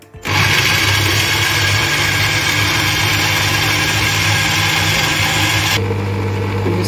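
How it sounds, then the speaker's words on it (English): Blender whirring steadily as almond milk and other ingredients for a vegan lasagna sauce are blended, a loud continuous motor drone that holds for several seconds before dropping to a lower hum near the end. "And let the blender do the job."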